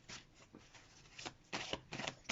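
Someone cuts and handles a deck of playing cards up close, giving a series of soft, quick papery riffles and slaps in uneven bursts, quiet and with no talk.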